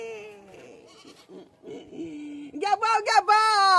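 A person imitates a goat's bleat with a rising, wavering nasal cry near the end, following quieter spoken and sung voice in a comedic domestic scene.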